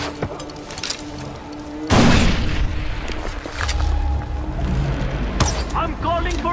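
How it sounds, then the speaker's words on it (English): Grenade blast in Far Cry 4 gameplay: one loud deep explosion with a rumbling tail arrives about two seconds in, amid scattered gunfire thumps and shouted voices. "Grenade out!"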